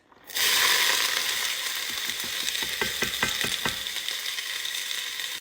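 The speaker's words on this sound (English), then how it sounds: "I'm gonna add the veggies." Chopped carrots and other vegetables hit hot oil in a pot for lentil soup, starting a loud steady sizzle with a run of clicking, scraping stirs partway through, no voices.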